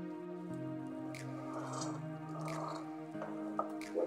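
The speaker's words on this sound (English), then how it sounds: "Just trying to squeeze out a little lemon from it." A lemon being squeezed over a glass cup of water while testing homemade glucose syrup gives a few soft, wet squishes and drips, faint beneath steady tonal background music.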